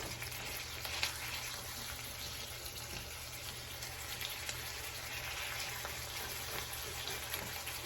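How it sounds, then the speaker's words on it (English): A steak sizzles in a pan for a Philly steak sandwich, a steady, even frying hiss with a constant low hum beneath it, moderately quiet and unbroken throughout. "the steak is cooking"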